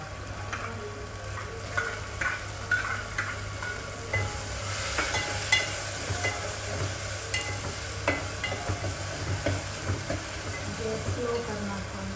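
Garlic-chilli paste, asafoetida, onion and tomato sizzle and crackle steadily in tempering oil for dal dhokli, with occasional stirring scrapes and a faint low hum underneath.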